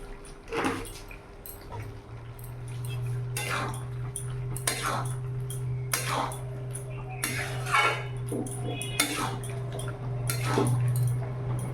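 Mixed vegetables being stirred in a cooking pan with a utensil, repeated scraping and clinking strokes at an uneven rhythm, close and fairly loud over a steady hum, with a voice talking between strokes.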